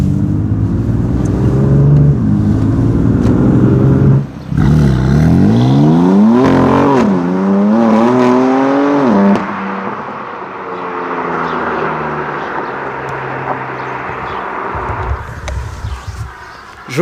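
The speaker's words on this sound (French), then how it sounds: "Joli son moteur, les gars." A Java Green BMW M3 F80 Competition with M Performance exhaust revs hard several times, pitch sweeping up and down through loud bursts, then settles to a lower rumbling idle.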